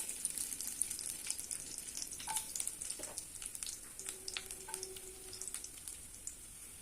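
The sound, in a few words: mustard, cumin and fennel seeds frying in oil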